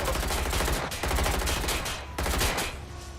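Automatic gunfire in the video game Watch Dogs: Legion: sustained, loud, close bursts of rapid shots broken by brief pauses, with no talking.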